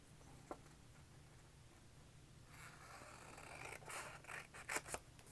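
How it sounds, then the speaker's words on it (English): Scissors cutting paper at a desk, a few faint snips and crisp crunchy cuts clustering in the second half, close but quiet over low background hum. "this we can cut with the scissors"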